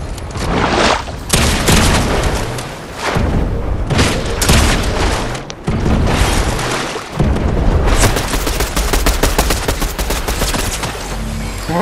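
Gunfire rings out in loud, dense bursts, with rapid repeated cracks and booms layered over one another and running almost continuously.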